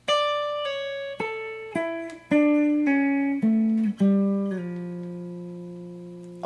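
Electric guitar playing a solo, a run of clear, sustained picked notes stepping downward, each attack sharp before ringing out, with the final note held long.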